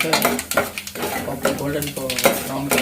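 Stirring and frying in a pan during Telugu cooking of chikkudukaya vepudu, with a spoon repeatedly scraping and clanking against the metal over a steady sizzle, in close, busy rhythmic strokes.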